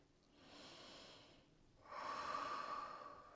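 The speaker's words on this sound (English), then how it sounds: "One more deep breath." Two slow, deep breaths during a yoga stretch, a long airy inhale followed by a stronger, louder exhale, close and quiet with no talk.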